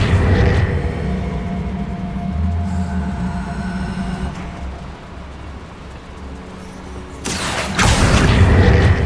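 An Accio spell cast in Hogwarts Legacy brings loud rumbling magical ambience and a sharp whooshing burst near the end, close and full, with no talk.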